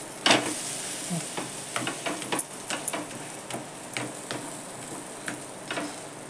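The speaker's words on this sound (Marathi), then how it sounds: "तर हे अशी अलगद चपाती पलटी करून घ्यायची." Leftover chapati fries in a pan with oil and butter, giving a steady close sizzle over a run of light clicks and taps as it is turned.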